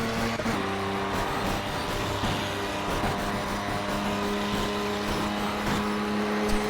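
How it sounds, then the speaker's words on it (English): In the racing game Project CARS, steady engine drone with a constant grinding scrape of a car's underside dragging along the ground, continuous and unbroken. "listen to just the bottom of the car, just the floor just constantly scraping the ground"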